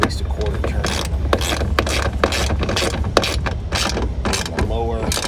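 A ratchet with a socket tightens the bolts on a black 6-inch running board bracket on a 2007–2018 Chevrolet Silverado 1500, giving close, busy metallic clicking and turning that continues throughout with no talking.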